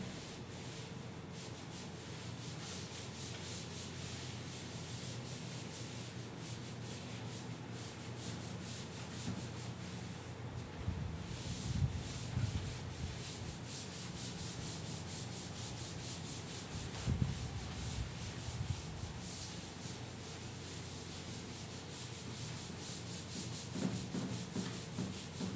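A classroom board is wiped clean to erase written marks, a steady close rubbing and scrubbing sound that continues for the whole stretch, with a few louder strokes along the way and no talk.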